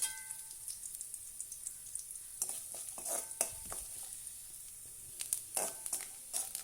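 Grated coconut roasting in a pan for a Kerala-style perattu, a soft dry sizzle with intermittent scraping and stirring scratches, quiet and close, with no voices.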